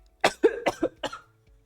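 A person coughs several times in quick succession, a short burst of dry, close coughs followed by a faint throat sound, with no talk.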